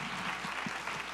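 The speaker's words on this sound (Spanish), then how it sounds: "Aplauso más fuerte, por favor, para Altagracia." Audience applause at an education summit, a dense continuous wash of clapping from a crowd, steady and even throughout the brief moment.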